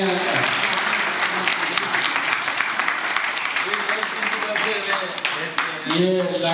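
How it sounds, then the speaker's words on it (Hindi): An audience at an alumni association's annual general meeting claps steadily to welcome an arriving guest, continuous applause with voices mixed in and speech emerging toward the end. "इनके लिए एक बार जोरदार तालियों से इनका स्वागत करें"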